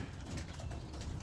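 Roller pigeons coo softly inside their loft, a brief low throaty murmur heard faintly over a quiet background.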